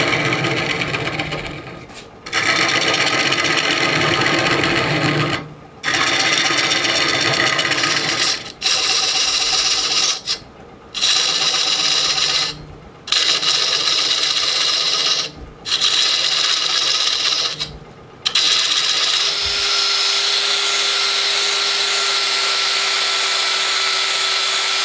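A wood lathe turns an out-of-round crater burl bowl at slow speed while a gouge rasps and scrapes steadily against the wood, the cut broken by several short pauses before the lathe hums on alone.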